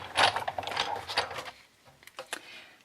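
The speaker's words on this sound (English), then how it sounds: "the die cutting machine." A die cutting machine pressing paper pieces gives off a series of mechanical clicks and rolling, grinding rattles, louder at first and then tapering into scattered ticks.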